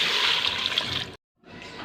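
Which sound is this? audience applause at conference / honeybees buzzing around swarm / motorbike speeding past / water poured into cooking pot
water poured into cooking pot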